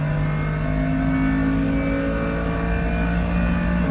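Race cars accelerating out of the final left-hand corner onto the Grand Prix circuit at the Nürburgring during an NLS endurance race, a loud continuous engine roar with rising tones from several cars.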